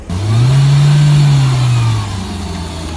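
A Mahindra Thar off-roading in four-wheel-drive low range revs its engine in a loud, steady, close drone that swells and holds, then eases off slightly toward the end, with no talking.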